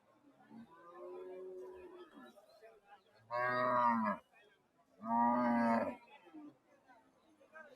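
Cattle low twice in loud, long moos at Bosunia Haat, a Bangladeshi livestock market selling meat cows, with quieter crowd chatter and speech filling the gaps between calls.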